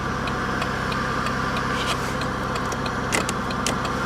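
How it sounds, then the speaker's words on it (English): A 2005 Buick LeSabre engine runs steadily just after starting, a continuous near idle hum with a few faint clicks and light jingles over it. "So the car started"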